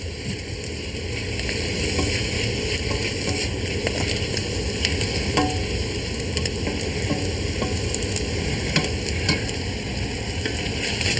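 Ground meat for a Bolognese sauce frying in a pan, a continuous close sizzle with scraping stir strokes throughout, loud and steady, no one speaking.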